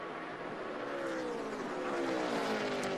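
NASCAR stock cars roar around the track, a dense continuous engine drone with pitches sweeping as cars accelerate off a corner, loud and layered.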